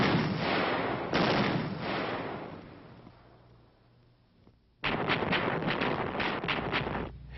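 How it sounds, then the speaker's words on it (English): Division artillery pounds a target area in a rapid series of heavy booming blasts, several shots in quick succession, then a fading lull before another dense burst of repeated firing resumes. "Phase 2 of the assault finds the division artillery beginning to pound the target area"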